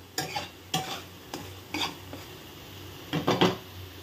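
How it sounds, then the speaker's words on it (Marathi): Spice masala of coriander powder, goda masala, red chilli, onion-garlic masala and turmeric being stirred and roasted in a pan, with distinct scraping strokes of a spoon against the pan over a soft sizzle, close up and without speech. "हलका सोनेरी रंग येऊस्तवर आपण ह्याला छान मिक्स करून घेऊया."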